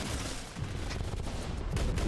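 Dense burst of video game gunfire in Rounds, loud and continuous over about two seconds with heavy low thumps, swelling again near the end, no talk over it.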